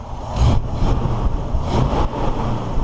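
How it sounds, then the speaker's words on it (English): A Ford Bronco's 302 V8 idles and rumbles through dual Flowmaster mufflers, a steady low burble with a couple of brief throttle swells, close and loud with no talking. "It's got dual Flowmaster mufflers on it. Sounds really good, just like they all do. Little 302 motor here."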